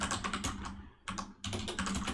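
Quick clicking keystrokes on a computer keyboard, close and fairly quiet, in short bursts with a brief pause in the middle and no talking.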